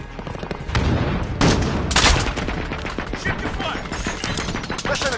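Gunfire during an online match of Call of Duty: Modern Warfare, rapid cracks and bursts of shots at mid distance, fairly loud with sharper peaks near the start, while a voice talks over part of it.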